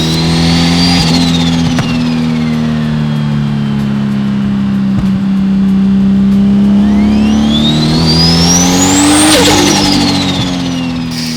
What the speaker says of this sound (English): So, the HKS T51R, the turbo that makes the noises, the whistly noises.